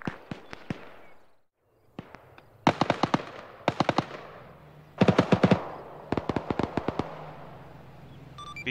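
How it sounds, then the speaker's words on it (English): Gunfire in a military video game mission, sharp rifle reports in quick bursts and clusters, loud and close, with short pauses between volleys. "Shots fired."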